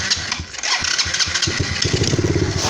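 Quad bike engine cranking and catching, a rapid starter chatter giving way to a rough, pulsing idle, close and fairly loud with no talk over it.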